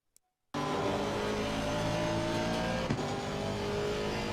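GT3 race cars in a racing video game roar at full throttle, a dense, steady engine drone with layered revs that begins abruptly after a moment of silence, holding loud and close with a brief bump partway through.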